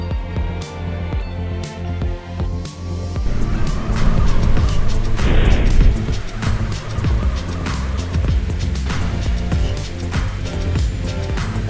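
A car drives around the city in a graphically modded GTA San Andreas, its engine droning and shifting pitch with a burst of tire squeal and skidding partway through, loud and continuous without speech.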